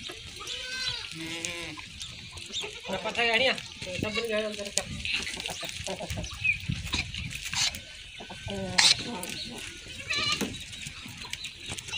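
Goats in a village bleat repeatedly in loud, wavering calls close by, with scattered chicken clucks and rustling in the background and a person talking in between.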